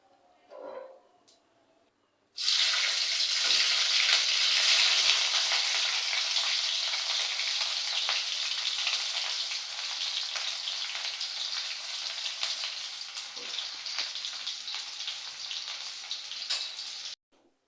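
Sweet pumpkin fries in a pan with loud, close, continuous sizzling after a sudden start. The hiss holds steady for about fifteen seconds before cutting off.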